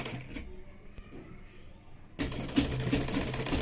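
A sewing machine stitches the lining border of a blouse. Its rapid, even mechanical whir starts up abruptly after a quiet stretch and runs steadily, close by.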